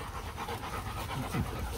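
A Rottweiler pants steadily close by, a continuous breathy rasp with a quick rhythm heard alone over a broad noisy background.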